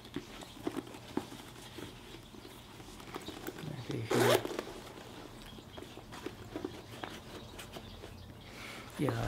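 The outside pocket zipper of a Louis Vuitton MICK PM messenger bag is pulled open in one quick, close rasp, set among soft handling rustles while a person talks.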